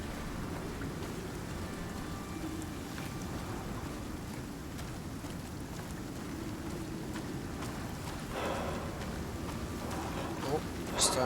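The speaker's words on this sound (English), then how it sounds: "Oh, starting to take the effects of the storm now" A storm in the survival game Icarus, with steady rain hiss and low rumbling wind or thunder, swelling toward the end with a few sharper crackles and louder gusts.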